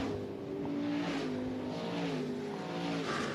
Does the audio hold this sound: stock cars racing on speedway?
yes